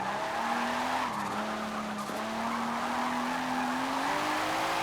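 Tires squeal steadily as a Nissan Fairlady Z drifts in the Forza video game, a loud sustained screech with engine drone underneath, running throughout.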